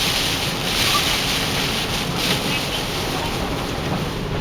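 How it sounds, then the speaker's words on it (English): Rain and wind heard from inside a car during a Northern California storm make a constant, loud broadband hiss and rush with gentle swells, steady throughout and without talking. "Yeah, it's like raining and windy."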